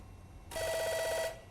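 Electronic intercom buzzer in the video game American Arcadia, a single steady trilling ring lasting under a second, loud and clear over a quiet background hum.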